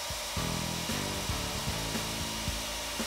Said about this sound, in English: When using a hole saw and a handheld drill, the pilot drill is often extended too far.